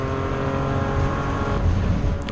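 Onboard engine of a Ford Fiesta Sprint Cup race car at the Assen circuit, a loud, steady high-revving drone with a slight rise in pitch toward the end, no voices.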